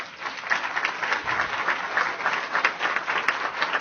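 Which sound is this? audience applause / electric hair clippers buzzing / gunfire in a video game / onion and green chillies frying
audience applause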